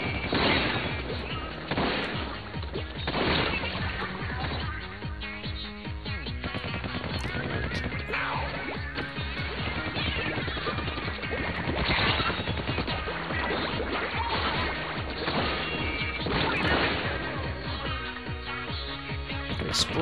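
Repeated booms and crashing blasts with heavy rumbling, dense and chaotic, from explosions in a battle in Splatoon 2 Octo Expansion.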